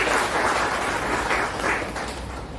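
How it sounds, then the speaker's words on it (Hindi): Audience applause at a Brahma Kumaris talk on moral values for businessmen: a steady, dense wash of clapping that holds throughout at an even, fairly loud level. "तो एक बार अपने लिए जोरदार तालियां बजाइए।"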